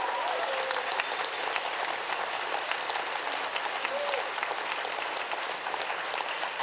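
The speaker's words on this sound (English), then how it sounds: "could you give an enormous round of applause to our actors, Stanley Tucci, Sia Kiwa, Pujana Gujrana, and Sheila Hancock" Theatre audience giving sustained, dense applause for the actors at a live literary prize event, steady crowd clapping throughout with a faint voice beneath.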